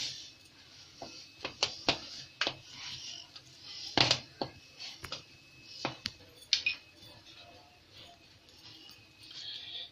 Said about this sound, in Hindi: 4 आलू लिए हमने और ये अच्छे से मैश करना है हमें